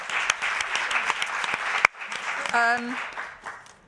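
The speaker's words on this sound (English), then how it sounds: "I sort of feel like that needs a round of applause" A conference audience on EU overfishing gives a round of applause: a dense burst of clapping that cuts off sharply, followed by a brief tonal sound and a voice.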